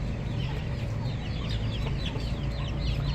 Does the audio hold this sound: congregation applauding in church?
no